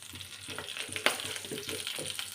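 Chana dal fries in hot oil for a tempering, giving a soft close sizzle with light crackles and a sharp pop partway through.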